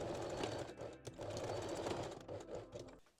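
A sewing machine runs a continuous straight stitch through elastic, a steady close mechanical whir with rapid needle rhythm that stops near the end.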